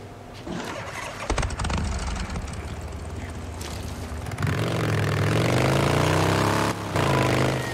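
A motorcycle engine in the Days Gone video game rumbles steadily, then revs up louder and rises in pitch partway through, dips briefly, and keeps running close by.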